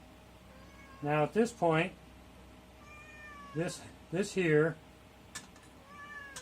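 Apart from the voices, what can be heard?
cat meowing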